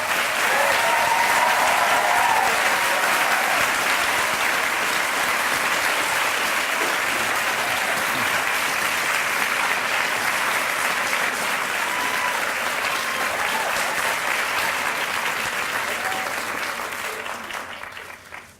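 Sustained audience applause welcoming speaker Fareed Zakaria, a dense, steady wash of clapping from a large crowd that holds evenly for many seconds before tapering off at the end.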